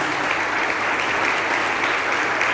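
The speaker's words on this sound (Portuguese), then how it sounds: "Que a igreja possa aplaudir a cada um dos seus olhos." A church congregation applauds its deacons during a celebration service, a sustained wash of many hands clapping, loud, even and unbroken throughout.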